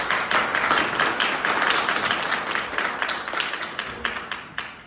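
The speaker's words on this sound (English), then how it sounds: "Please welcome him with a big applause." A conference audience at a dental implant lecture claps loudly and continuously, a dense wash of applause that gradually thins and tapers toward the end.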